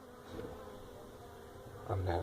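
Agitated loose bees buzz inside a large hive set into an apartment floor, a close, droning hum that swells briefly near the end.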